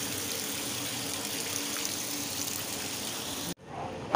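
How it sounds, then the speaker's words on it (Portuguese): Water gushing steadily from a burst Sabesp water pipe as it floods a house, a loud continuous rushing that cuts off abruptly near the end. "muita água"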